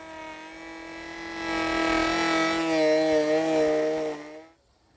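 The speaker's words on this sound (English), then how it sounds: "I'm running the router at the slowest speed and not trying to do it all at once" Wood router fitted with a ball bearing bit, run at its slowest speed while shaping the edge of a wooden flagpole, giving a steady loud whine that strains as it cuts and then stops abruptly.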